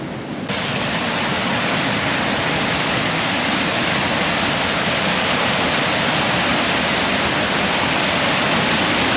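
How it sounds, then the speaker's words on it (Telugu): A loud, constant roar of a waterfall in high flow pours without pause, dense and close, with nothing else audible. "ఇక్కడ వాటర్ ఫ్లో ఎక్కువ ఉంది అనుకుంటా"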